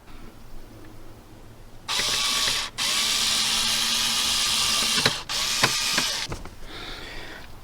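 A power tool whirs and ratchets while removing a bolt that holds a car dashboard together, close and loud. It runs in three sustained bursts with short pauses between them, and no talking.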